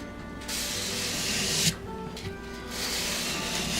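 A rusted Condor Bushlore knife blade is drawn along sandpaper, making steady rasping hiss strokes with brief pauses between passes, close and moderately loud.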